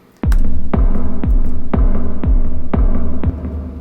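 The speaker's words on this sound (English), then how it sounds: "you can hear that the reverb is being applied to both the kick drum and the snare drum at the same time" Kick and snare drum pattern run through reverb in Ableton Live, a steady loop of about six punchy hits each trailing a washy tail over a sustained low hum, loud and alone.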